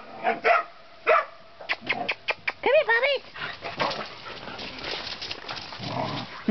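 Puppies bark and yip in short, high-pitched bursts, several in quick succession, with a person talking nearby.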